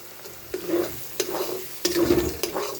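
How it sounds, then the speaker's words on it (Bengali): Aloo dum masala and sugar being stirred and mixed in a pan, with about four spatula scrapes at a steady pace over a low sizzle. No talking. "সব কিছু একসঙ্গে ভালো করে মিশিয়ে নিচ্ছি"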